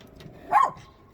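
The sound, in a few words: dogs barking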